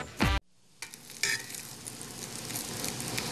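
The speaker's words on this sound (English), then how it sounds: "My meatballs are starting to brown up nicely." Meatballs browning in a hot pan give off a steady broadband sizzle throughout, briefly broken by a short clatter and a sharp dip near the start, with no talking.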